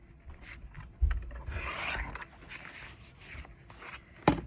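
Scissors or a blade trimming the paper sides of a bullet journal page, giving close rasping, rubbing cuts with a sharp snip near the end, alone without talk.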